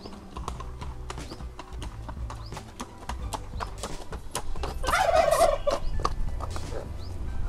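Horse hooves clip-clop at a steady, quick rhythm on a stud farm in Punjab, close and distinct, while birds, likely turkeys, gobble loudly in the background midway through.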